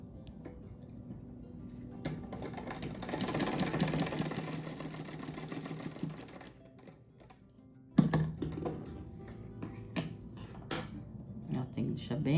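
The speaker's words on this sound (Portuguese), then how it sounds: "Costurar bem em cima do risco." Sewing machine stitching a patchwork rug runs in a steady mechanical burst for several seconds, stops, then resumes in shorter bursts with clicks and handling noise nearby, with someone talking at moments.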